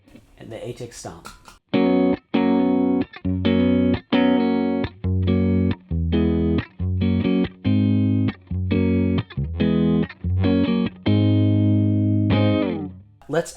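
Electric guitar played through a Line 6 HX Stomp's Vox amp simulation, loud, slightly overdriven chords struck in a steady rhythm of short bursts with brief gaps, ending on a sustained ringing chord.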